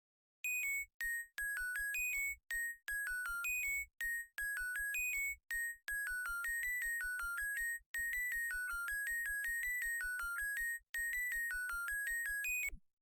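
A synth arpeggio, bit-crushed with Redux and sidechained, plays bright, tinkling repeated note patterns that pulse rhythmically with short ducking gaps, steady and alone for over twelve seconds.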